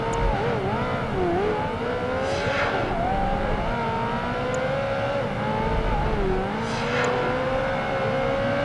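Race cars in Project Gotham Racing 2 on Xbox roar continuously at close range, engines holding a steady high whine that dips and climbs with gear changes, with brief swells as rivals pass alongside.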